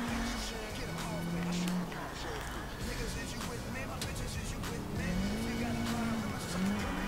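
Car engine in GTA IV driving and revving steadily, with rising and falling engine tones under continuous game sound and a person talking over it.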